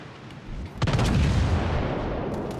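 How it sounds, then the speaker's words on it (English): Warship main guns ripple-firing in World of Warships: Legends, a heavy rolling barrage of booming shots that starts abruptly and sustains loud and dense to the end. "And I just ripple fired and I got really good accuracy."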